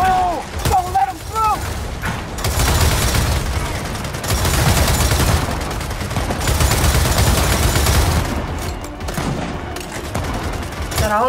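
Rapid bursts of video game gunfire from Gears of War 4 fill the scene, heavy sustained volleys with breaks in between, with a voice speaking briefly over them.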